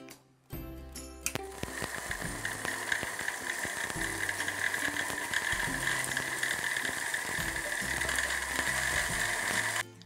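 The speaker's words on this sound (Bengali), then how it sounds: "আমার মটরশুঁটিটা পেশা হয়ে গেছে গ্রাইন্ডিং মেশিনে" A kitchen grinding machine runs as green peas with green chillies are ground into paste for kachuri filling, starting after a brief clatter and then whirring and rattling loudly and steadily for about ten seconds.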